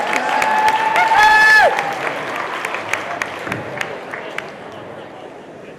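An audience in a high school assembly claps and cheers, with a whooping voice rising over the crowd early on before the clapping thins into scattered claps and fades.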